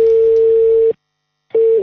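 A loud, steady single-pitch telephone tone sounds during an outgoing call, stops for about half a second, and then resumes. No voices are heard.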